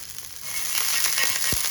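Water splashed onto a hot, oiled nonstick griddle, giving a continuous close sizzle with light crackles and a small knock near the end.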